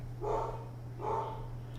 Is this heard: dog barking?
yes